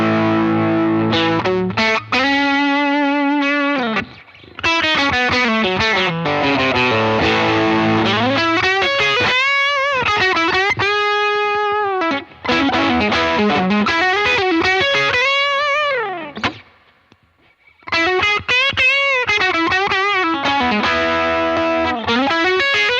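An electric guitar runs through a JHS Fumble pedal stacked with a NotADumble, giving a loud, distorted, saturated tone. Chords and riffs are played continuously for about twenty seconds, with brief gaps between phrases and no talking.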